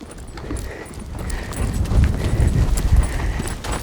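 Hooves of a horse named Spider thud in a steady clip-clop rhythm during a riding lesson on a circle, close and fairly loud, with faint background noise.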